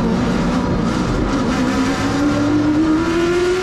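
A CARS Tour race car at the green-flag start at New River, its engine droning loud and steady with a slowly rising pitch as it accelerates, heard from close by with no talk.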